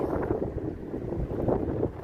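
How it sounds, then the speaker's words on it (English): Wind buffets the microphone in rumbling, uneven gusts on a windy morning street in Las Vegas, loud and close, with no one speaking. "Ooh, windy."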